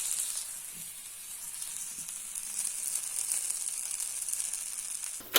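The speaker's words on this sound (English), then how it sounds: "Gotta love that sizzling sound." A grilled cheese sandwich sizzling in a hot pan over medium-high heat, a steady bright crackling hiss that holds evenly throughout, close and fairly loud with no talk.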